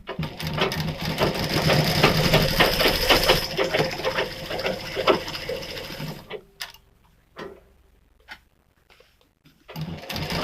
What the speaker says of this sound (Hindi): ये हम इसके ऊपर सिलाई लगा देंगे